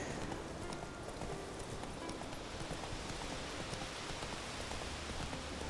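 Roach the horse walking uphill in The Witcher 3, a quiet, steady clip-clop of hooves on the ground, faint and continuous with no talk.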